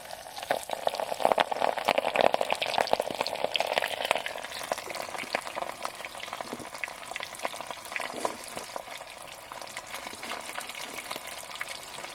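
Prawns deep-frying in hot oil at a freezing overnight wild camp, a steady dense sizzle that flares loudly at first, then settles into a continuous crackling fry with occasional louder pops.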